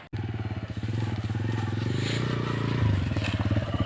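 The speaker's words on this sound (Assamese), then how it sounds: "এয়া জংঘলত বাইক সোমোৱাই দিলোঁ" A motorbike rides into the jungle, its engine putting close and steady with a rapid regular pulse, the revs rising slightly toward the end.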